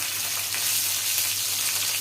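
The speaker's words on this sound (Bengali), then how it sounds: "এটা এখানে তেলে ভাজা হতে থাক" Chicken with ginger and garlic sizzling in oil makes a close, continuous frying hiss that stays steady for the short stretch.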